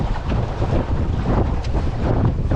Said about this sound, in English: wow, it's getting gusty,